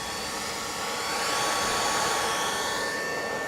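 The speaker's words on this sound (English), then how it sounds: "this is the sound you're hearing is coming from the PSU" The power supply fan of a Bitmain AntMiner S7 runs with a steady, close whooshing whir and a faint high whine, holding at constant loudness throughout with no voices.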